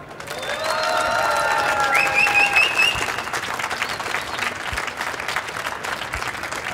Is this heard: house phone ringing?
no